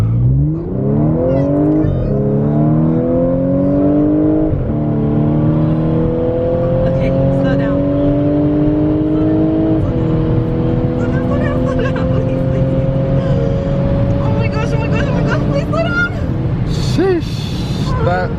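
Car engine revving hard through a dyno run on a wet day, a loud steady roar climbing in pitch in stepped gear-like surges for about fifteen seconds before backing off, close and dominant.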